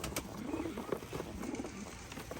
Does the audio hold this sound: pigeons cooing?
yes